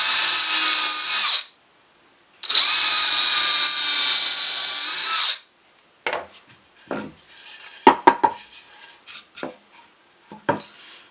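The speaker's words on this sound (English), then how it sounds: "drill both of those out" Two long bursts of a power drill whining as it bores into wood for a patio chair, followed by softer clattering and tapping of tools and bits.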